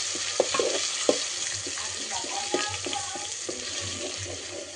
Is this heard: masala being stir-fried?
yes